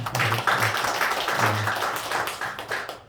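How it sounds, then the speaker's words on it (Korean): A church congregation claps in welcome during a Sunday worship service, the dense, steady patter of many hands filling the room for about three seconds before fading at the end, with a low voice faintly underneath. "우리 박수하도록 하겠습니다."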